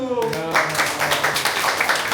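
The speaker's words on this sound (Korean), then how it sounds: "박수" Applause from an audience at a climate finance education lecture, a burst of many hands clapping steadily and fairly close, starting just after a speaking voice at the very beginning.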